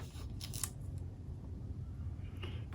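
A paper trimmer slicing through a card frame, two or three short, crisp cuts over a faint, quiet room hum.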